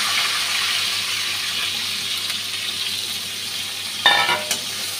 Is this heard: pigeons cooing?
no